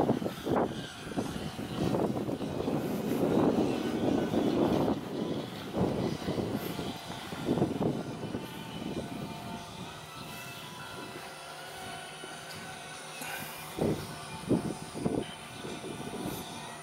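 A train rumbles in, with a broad roar swelling and fading and a few clanks and squeals near the end, fairly distant and moderately loud.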